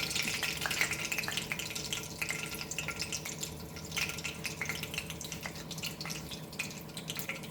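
Mustard seeds sputter in hot oil for an Indian mutton curry, a steady dense crackle of tiny pops that runs the whole time with no voices.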